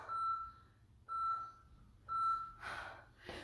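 Three steady electronic beeps from a workout interval timer about a second apart, each a clean tone lasting roughly half a second, followed by breathing and rustling sounds during a HIIT session.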